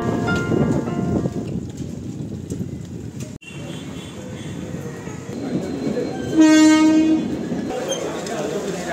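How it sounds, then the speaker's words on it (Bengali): Ranaghat to Krishnanagar local train in West Bengal: steady carriage rumble and rattling wheels throughout, with a loud horn blast sounding partway through over the running noise. "উঠে গেছি রানাঘাট থেকে কৃষ্ণনগর লোকালে"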